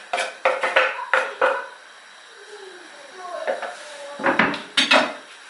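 Chopped ingredients dropped into a cooking pot while making Nigerian soup, with a series of clinking metal clatters and utensil knocks, a quieter pause, then more scraping and clanks.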